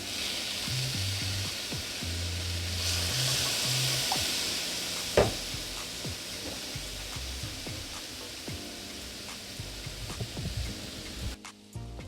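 Shrimp sizzling on a grill as pineapple juice is sprinkled over them, a continuous close hiss with a brief louder burst and scattered pops and clicks, no talking.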